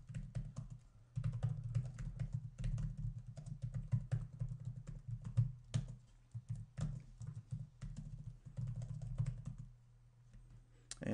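Fingers type on a computer keyboard in bursts of rapid, light clicks with short pauses between runs, fairly quiet and close, with no talking.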